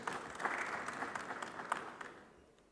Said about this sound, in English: Please a round of applause for him as he steps forward.